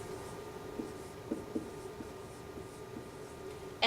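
Pencil writing an answer on paper, soft scratchy strokes and short taps in irregular bursts, faint and close in a quiet room.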